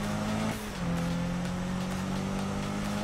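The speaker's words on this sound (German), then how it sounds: "Ich finde ja auch den Sound der Autos mega geil." A car engine drones steadily while driving through winding streets in the PS4 game Need for Speed, a continuous mid-level hum with a brief dip in pitch, heard alone without talk.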